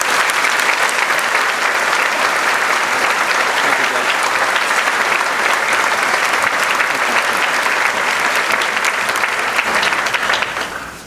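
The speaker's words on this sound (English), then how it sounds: "give them a round of applause" A large graduation audience at a senior high school ceremony gives a sustained round of applause, loud and dense from start to finish before tapering off at the very end.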